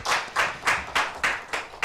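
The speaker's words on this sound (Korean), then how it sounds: "우리 박수로 감사드리도록 하겠습니다" A church congregation at a Sunday service claps in thanks, a short burst of about seven even, rhythmic claps, fairly close and with no talk over it.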